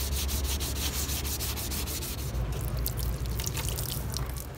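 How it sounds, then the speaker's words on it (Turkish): Close, continuous scratchy rubbing of sandpaper on a fiberglass-coated model submarine hull, rhythmic back-and-forth strokes with a gritty hiss, no talking. "Şimdi 0 numara zımpara yapacağım."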